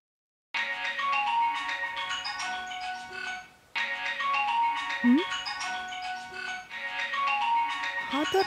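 A mobile phone plays a melodic ringtone for an incoming call from a new number, the tune looping three times with a short gap between repeats and a brief voice-like sound midway.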